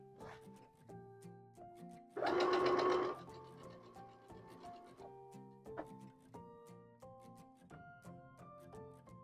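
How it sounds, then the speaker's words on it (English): A sewing machine stitches a quilt block seam, a short loud burst of rapid whirring in the middle of a quiet stretch, close and alone without talk. "now we're going to sew this seam"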